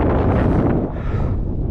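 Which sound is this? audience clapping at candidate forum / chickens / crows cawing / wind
wind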